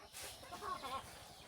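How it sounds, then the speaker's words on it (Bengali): A native hen waiting at a nesting spot to lay an egg clucks softly in a short, close burst of low throaty notes, with no talking. "আমার এই মুরগিটা ডিম দেবে, ডিম দেওয়ার জন্য এই জায়গায় অপেক্ষা করছে"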